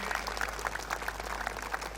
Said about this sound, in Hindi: एक बार जोरदार तालियों के साथ स्वागत करेंगे